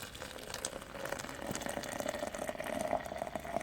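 Boiling water pours steadily over a Honey Badger knife, giving a continuous close splashing and trickling that grows slightly fuller as it runs, with no talking.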